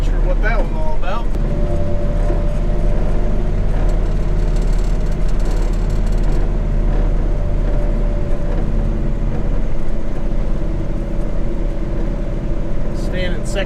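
A '66 tank named Wallace creeps along slowly in second gear through a neighborhood, its engine giving a steady, loud, low droning rumble that holds constant throughout.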